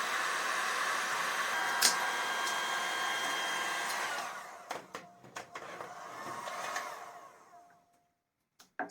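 A hot air blower roars steadily while heating a glued wooden tenon on a wood-turning project, then cuts off partway, leaving a few clicks and clatters before going quiet.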